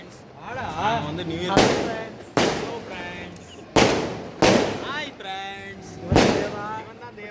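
Firecrackers go off in several loud, sharp bangs at irregular intervals during New Year celebrations, with excited voices talking and shouting throughout.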